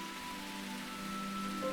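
Steady soft rain hiss in the video game Root Letter, a continuous even patter with faint tonal music lines running beneath it.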